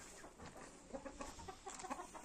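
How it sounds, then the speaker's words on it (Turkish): Hens clucking in short, irregular bursts, moderately close, with several birds overlapping against a quiet farmyard background; one is an ash-grey hen. "Bu küllü tavuk da Aras Bey'in tavuğu."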